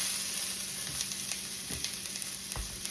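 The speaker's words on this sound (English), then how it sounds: "Now that the oil is hot, I'm gonna go ahead and add some zucchini. It might sizzle, so be careful." Zucchini sizzling in hot oil in a pan, a steady close crackling hiss with a few soft stirring knocks, no talk.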